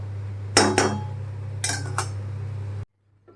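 Metal cooking pot of paneer curry lifted off a stove: two pairs of sharp metallic clanks against a steady low hum, close and loud, ending abruptly in near silence.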